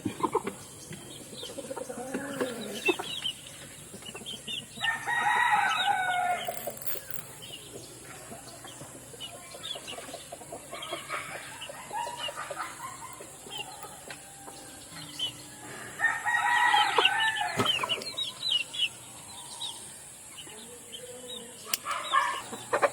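Backyard chickens cluck in scattered bursts at moderate distance, with a rooster-like call and some wing flapping, in a quiet outdoor setting with faint background hiss.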